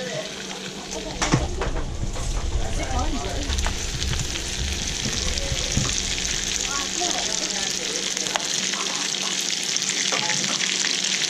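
Prawns fry in butter and minced garlic, giving a steady, close crackling sizzle that runs the whole way, with people chatting in the background.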